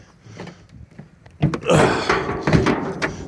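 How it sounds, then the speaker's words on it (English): A stiff door on a 1991 Dodge Shadow ES convertible is forced open, first some faint fumbling at the handle and then a loud, close thunk followed by creaking and rattling as the panel gives way. "This door does not like to open either."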